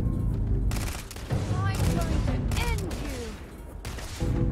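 Rapid bursts of gunfire from the space game Starfield, several volleys crackling back and forth with weapon and mechanism clatter amid busy game sound, loud and close throughout.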